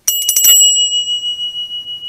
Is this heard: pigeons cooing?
no